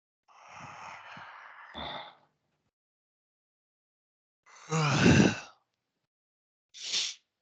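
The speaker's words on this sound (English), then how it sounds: "Wow, what a good yawn that was." A big, slow human yawn: a long breathy inhale, a pause of silence, then a loud drawn-out voiced exhale and a short trailing sigh, close and alone with no talk.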